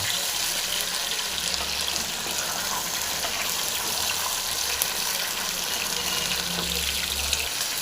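Water pours steadily into a mango sweet mixture being cooked in a home kitchen, a loud, continuous splashing rush that lasts throughout without talk.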